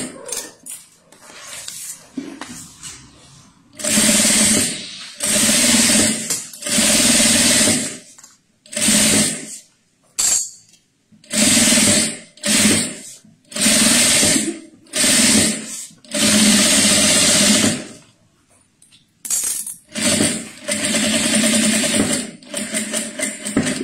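Sewing machine stitching a synthetic-fabric pouch in a series of loud bursts of rapid motor whir, each several seconds long, separated by short pauses, close and alone.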